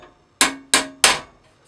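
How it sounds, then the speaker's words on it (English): A ball peen hammer taps out a dent in a 1960 Tonka Rescue Squad toy truck: three sharp metallic strikes in quick succession, close and clear, each ringing briefly before fading. "Might give it some taps with a hammer."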